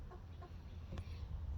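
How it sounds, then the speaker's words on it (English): Young chickens partway to adult voices give a few soft clucks and a brief squawk over a steady low outdoor rumble, sounding fairly near and spaced out rather than continuous. "They're starting to get their adult chicken voices, which is kind of funny."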